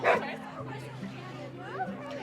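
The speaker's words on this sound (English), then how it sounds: "He's a Dane Mastiff mix." A Great Dane mastiff mix dog gives a short bark at the start, then lower whimpering sounds, with people talking quietly close by.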